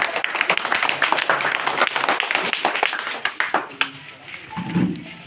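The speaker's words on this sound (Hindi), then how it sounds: "ताली बजा के" Villagers clapping at a village meeting, a scattered round of hand claps close by that thins out and fades toward the end, with a voice briefly joining as it trails off.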